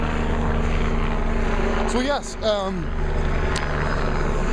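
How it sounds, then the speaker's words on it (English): A helicopter drones overhead as a steady, loud rotor and engine rumble that fills the background throughout, while someone talks briefly over it. "It's our friend, the helicopter."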